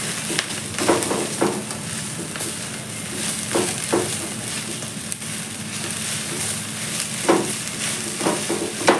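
A spoon stirs amaranth leaves seasoned with groundnut chili powder in a pan. The continuous sizzle carries repeated scraping strokes that come every second or two, and no voice is heard.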